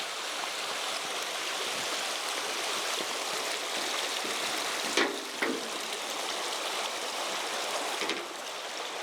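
A river on Dartmoor rushing past a crossing point, a steady broadband wash of flowing water that holds throughout, with a couple of brief splashy bumps partway through.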